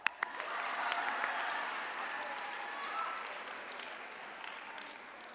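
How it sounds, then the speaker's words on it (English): Audience applause at a women's day gathering, a steady wash of many hands clapping at moderate distance, fairly even throughout with a few sharper claps at the start. "Let's all applaud them."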